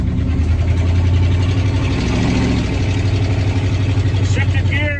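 Engine of a neglected 1965 Acadian Beaumont with almost no exhaust, a loud, rough, throbbing rumble that runs continuously and close, with a brief higher whine near the end.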